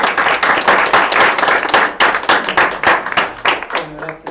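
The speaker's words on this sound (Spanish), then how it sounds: "No, entonces aplaudamos antes." Audience applause at a theatre festival performance, loud, close clapping with distinct individual hand claps that swells and dips in waves before thinning out near the end.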